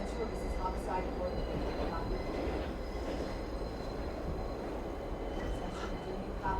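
A subway train pulling into Grand Central rumbles steadily with a constant low roar of wheels on rails and a faint high squeal running through it, with no break in the noise.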